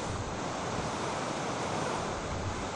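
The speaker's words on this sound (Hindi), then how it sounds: "The river is super strong. The current." A strong river current rushes steadily beside a mountain road in Himachal, on the way to Malana near Kasol: a dense, continuous roar of water, close and loud, with no talk over it.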